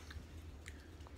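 Someone chews a Bean Boozled jelly bean with faint, soft, wet mouth sounds and occasional small clicks over a low background rumble.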